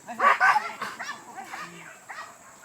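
Dogs on a wild boar hunt give excited yips and barks, loudest near the start and then fading into scattered calls, with faint voices mixed in.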